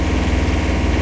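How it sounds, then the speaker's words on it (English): Boat engine idling at very low revs, a loud, close, steady low-pitched rumble with a regular throbbing pulse, sounding as if it is ticking over just above cutting out. "maybe it's revving quite low and it's almost cutting out, possibly"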